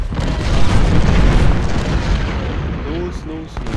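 Artillery and gunfire in the Ultimate General: Civil War video game: a dense, continuous roar of booming cannon and rattling shots, loud and close throughout, with no clear gaps.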